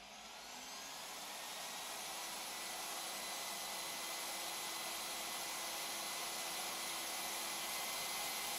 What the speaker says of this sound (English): Pressing the E-drive starts the welding machine.